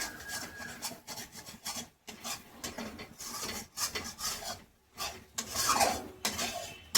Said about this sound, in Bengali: একটু দইটা ফেটিয়ে দানা দানা যেন না থাকে, একদম ফেটিয়ে দেবেন ক্রিমের মতন